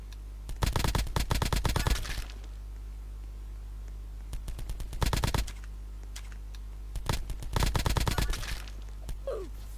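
Three bursts of rapid automatic gunfire from an online video game, loud and close, with short pauses between volleys and a steady low hum underneath.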